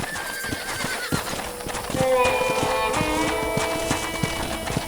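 A horse whinnies with a rising harmonic call over steady clip-clopping hooves by a corral in the video game Red Dead Redemption, all set against a continuous background ambience with faint music.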